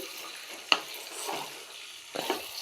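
Marinated desi chicken fries in a pan as it is stirred, giving a sharp metallic clink followed by soft sizzling, scraping bursts. The frying is close by and fairly quiet, with no talking.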